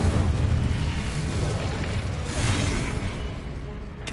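An Incendio fire spell cast in the video game Hogwarts Legacy, a dense roaring burst of flame with rumbling booms that holds steady and fades slightly at the end.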